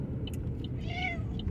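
A stressed female cat gives a few faint, strained meows from inside a kitty carrier, with steady background noise throughout and no talking.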